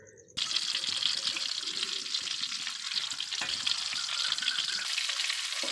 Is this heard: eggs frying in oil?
yes